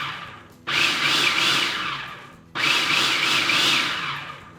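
A food processor pulses cocoa powder with baking soda, baking powder and other dry ingredients in two whirring bursts, each starting sharply, holding for about two seconds and then winding down.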